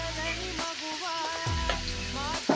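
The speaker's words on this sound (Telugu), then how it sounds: "ఇప్పుడు బీరకాయలు వేసుకుంటున్నా." Chopped ridge gourd pieces tipped into a pan of browned frying onions, giving a close steady sizzle with light stirring clatter and a faint voice beneath.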